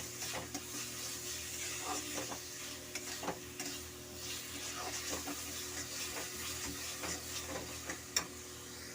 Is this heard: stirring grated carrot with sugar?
yes